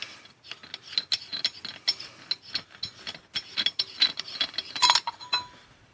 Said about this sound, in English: you just unscrew the bottom part of the can here.